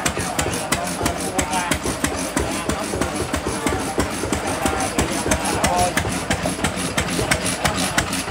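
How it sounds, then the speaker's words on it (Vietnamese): An antique engine idles on kerosene with a loud, steady, rapid chugging beat, each firing stroke evenly spaced, close by and continuous throughout. "chạy dầu hôi các bạn, còn xăng thì nó chạy nó sẽ không có im bằng dầu hôi đó"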